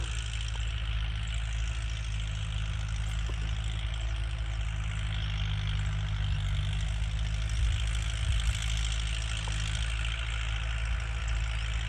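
Kubota L5018 tractor plowing a cassava field, its diesel engine droning steadily and loudly throughout with a constant low rumble and no speech.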